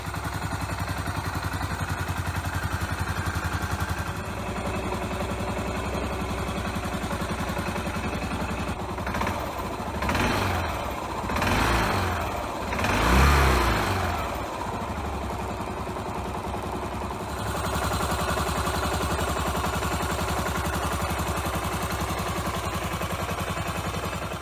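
A classic kick-start-only motorcycle engine runs steadily throughout, a continuous mid-pitched mechanical drone with some clatter, swelling briefly louder around the middle before settling back to an even idle-like throb.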